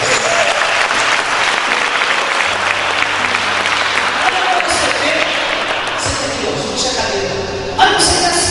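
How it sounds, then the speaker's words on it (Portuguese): A church congregation applauds during a sermon, a dense, steady wall of clapping that fills the space throughout, with a brief louder swell near the end. "Quem crê nisso, aplaude o Senhor agora."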